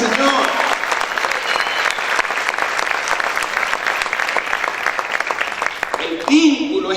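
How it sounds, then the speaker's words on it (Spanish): Loud sustained applause from a church congregation, many hands clapping in a dense, even roar for several seconds, with voices mixed in and a brief shout near the end. "Aplaude fuerte al Señor."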